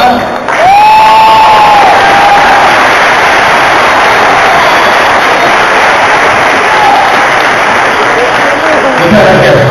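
A convention audience at an anime event in Rosario applauds and cheers loudly, sustained dense clapping and shouting that stays loud and steady throughout, with a brief tonal whistle near the start.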